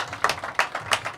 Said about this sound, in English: can I get a round of applause, please, for my three panellists, please?